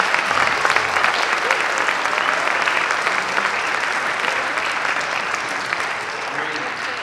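An audience at a jazz festival applauds the sound engineers with dense, loud, steady clapping that fills the hall and fades only slightly toward the end.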